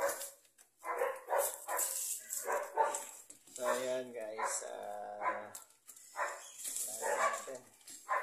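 A pet dog whines and gives short yips and barks at close range, mixed in with a person talking over it.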